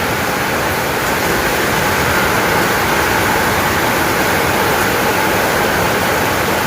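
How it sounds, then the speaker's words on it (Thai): Floodwater rushes across a road during heavy rain, making a loud, constant roaring hiss of flowing water and rainfall with no pauses, close and unbroken. "น้ำไหลอยู่พุ่นน้ำท่วมเลยน้ำท่วมถนนหมดเลย"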